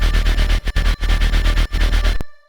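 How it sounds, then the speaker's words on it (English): Dense, distorted synth bass pulses with an auto pan tremolo, swelling and dipping in rapid rhythmic waves with a few sharp dropouts, loud and close before fading at the end. "And then I also have this auto pan doing a tremolo effect on"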